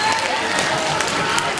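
An audience at a science communication conference breaks into applause, a dense, steady clatter of many hands, while a voice speaks over it.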